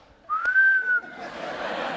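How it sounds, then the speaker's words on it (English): One audience member at a live comedy talk event gives a single clear sustained whistle lasting under a second, followed by a soft murmur of crowd noise. "there's nothing worse than one whistle"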